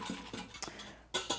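Stirring an evaporated milk mixture in a bowl for stovetop mac and cheese, quiet scraping swirls with light clinks of utensil against the bowl, several short strokes close by.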